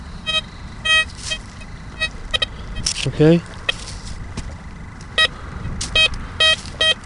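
A Blisstool v3 metal detector sweeps a ploughed field, giving short repeated electronic beeps and one rising chirp from buried iron over background ground noise, with someone speaking briefly.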